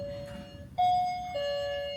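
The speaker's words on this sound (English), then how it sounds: "we have a doorbell" A two-tone electronic doorbell chime rings close by at a cruise ship suite door, a clear ding followed by a lower dong, with a faint voice before it.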